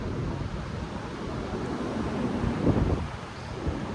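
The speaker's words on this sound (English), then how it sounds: "some gusts of wind are very, very powerful" Powerful storm wind gusts around a cottage among trees with hanging branches, a steady roaring rush with rustling swells and no speech.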